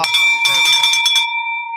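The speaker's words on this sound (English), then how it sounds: "Ring that bell." A bright metal bell rung to celebrate a closed real-estate deal, with a run of rapid clanging strikes followed by a clear ringing tone that decays slowly, loud and close, with no speech over it.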